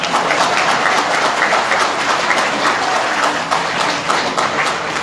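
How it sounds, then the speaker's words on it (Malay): A large crowd at a political rally for a manifesto launch applauds, a dense, sustained wash of clapping that holds steady throughout. "Tepuk tangan lagi."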